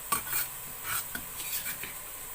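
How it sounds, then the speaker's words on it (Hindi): Chopped onions browning slowly in oil over low heat for a marrow (kaddu) sabzi, with a soft, steady sizzle and a few light stirring and utensil clinks against the pan. "अब इस प्याज को मैं हल्की आंच पे ब्राउन कर लूंगी।"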